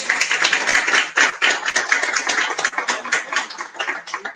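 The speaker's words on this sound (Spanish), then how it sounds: "Les voy a pedir por favor un fuerte aplauso para Cintia Franco." An audience at a book presentation applauds for Cintia Franco, a dense burst of many hands clapping close up that rises and falls over several seconds.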